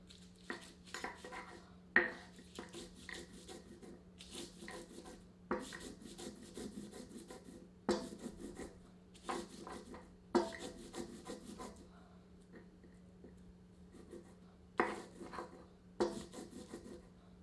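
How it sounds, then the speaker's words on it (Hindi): Six or seven chillies are ground on a flat stone silbatta. Loud, close rasping strokes of stone on stone come in rhythmic bursts separated by short pauses, with no talk. "अब सिलबट्टे पर ही मैं 6 से 7 मिर्चों को पीस रहा हूं।"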